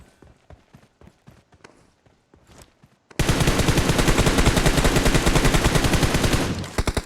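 Sustained automatic bot gunfire in a shooter video game, a loud, dense rapid-fire burst lasting several seconds after a stretch of quieter footsteps and clicks.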